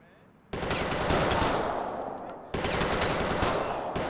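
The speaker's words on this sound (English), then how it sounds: "That was some good shooting, actually." Rapid automatic gunfire in the GTA 4 LCPDFR police mod, loud and continuous in two sustained bursts separated by a brief break.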